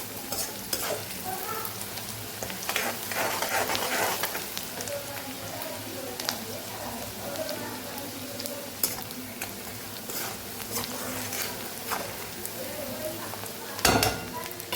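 Onions and green chillies sautéing in a pan for spicy poha and potatoes, a steady soft sizzle and crackle with occasional spoon scrapes, one sharper clatter near the end, heard close with no talk.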